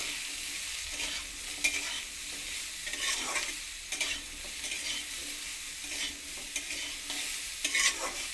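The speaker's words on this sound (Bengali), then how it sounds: "সমস্ত কিছুকে আবার একসঙ্গে মিশিয়ে একটু ভেজে নেব" Papaya curry stir-fried with cumin powder, green chilli and nigella seeds, a soft sizzle broken by repeated scraping strokes of a spatula against the pan, a few louder knocks, no talking.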